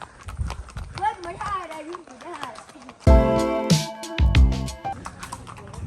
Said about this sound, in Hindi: घोड़े की सवारी ले रहे हैं